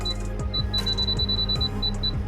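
Rapid series of short, high electronic beeps from a Dnipro-M FH-15 fan heater's tip-over alarm, standing unevenly, repeating in quick succession over a steady low machine hum, close and clear, with no speech.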